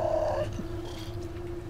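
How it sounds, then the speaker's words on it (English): A cat-like screech from a baby monster in the horror film The Descent, a snarling, yowling cry that starts loud and fades into a steady tonal hum over the rest of the short stretch. "did that not sound like a fucking pissed off cat or what?"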